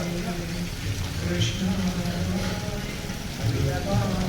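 Steady heavy monsoon rain falls in a continuous dense patter at a temple in Chiplun, with faint voices and a bleating animal now and then.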